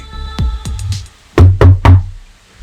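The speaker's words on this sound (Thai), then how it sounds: "มีเสียงเข้าประตูดังขึ้น" Knocks on a door, used as a sound effect in a Thai audiobook, come in two loud rounds: a quick series of four raps, then three heavier, booming thuds.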